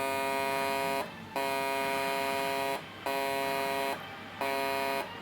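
Modified MOSFET-based electric fish stunner buzzing in harsh, rough bursts, four pulses of about a second each separated by short gaps, loud and close.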